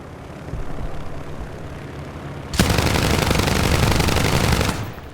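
Rapid, loud sustained burst of machine-gun fire from an A-36 aircraft in the War Thunder air combat game, running about two seconds after a quieter stretch of engine drone, then cutting off.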